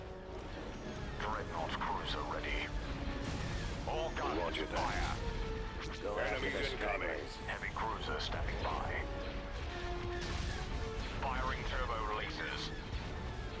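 Starship turbolaser fire in the space battle game Star Wars Empire at War, heavy booming blasts and crashes repeating throughout under a dense battle din, with unit voice lines spoken over it.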